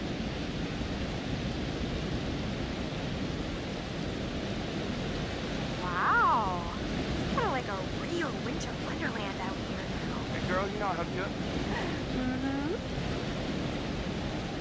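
Broad, steady rushing roar of a waterfall in the video game Until Dawn, continuous and fairly close, with faint voices and chirpy sounds over it.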